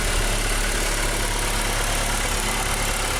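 A freshly rebuilt car engine running on its first start, idling loud and steady close by with a continuous rumbling hum and slight vibration.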